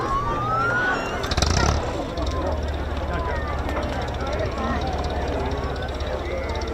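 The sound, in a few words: P-51 Mustang aircraft flying display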